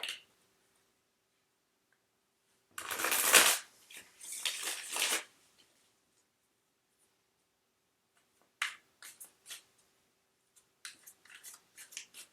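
Tarot cards are shuffled in two dense riffling bursts near the start, followed after a pause by lighter scattered flicks and card snaps, with no talking.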